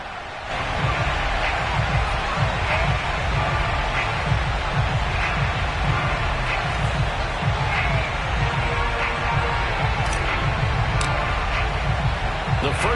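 Steady, loud crowd roar fills a Baltimore Ravens home football game at M&T Bank Stadium, a continuous wash of cheering from many fans that holds evenly throughout.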